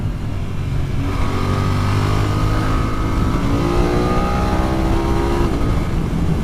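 A BMW F900R motorcycle with a 105-horsepower engine accelerates hard, its loud, close engine note climbing steadily in pitch through the gears without pause.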